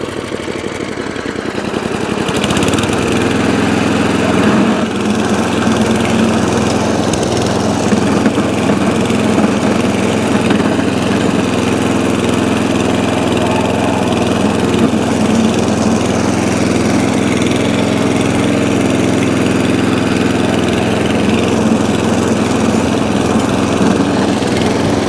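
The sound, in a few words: ATCO Balmoral cylinder lawnmower engine idling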